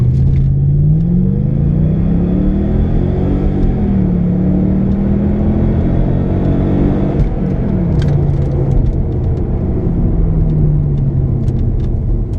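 A Mercedes CLK V8 launches from standstill at full throttle, its engine note climbing through the gears with clear drops at each upshift, a loud, steady close-up roar from inside the car with no talking.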